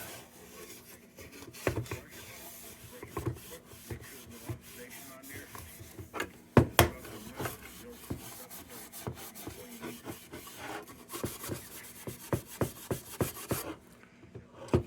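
Steel wool rubs and scrubs against an old wagon buggy lantern in quiet, uneven strokes, with a few sharper scrapes and knocks between passes.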